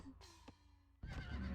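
A horse neighs once in the strategy video game Rise of Nations, a short, fairly faint whinny followed by denser game noise.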